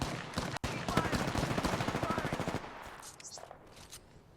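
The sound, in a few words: gunfire in Apex Legends video game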